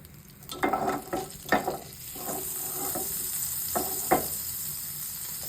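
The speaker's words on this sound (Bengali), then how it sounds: "আর বাটার দিয়ে চিকেনটাকে ভাজলে আরো ভালো লাগবে তেল দিয়ে ভাজার থেকে" Chicken fries in butter in a pan for a burger, a steady sizzle running throughout with several louder crackling bursts and scraping stirs near the pan.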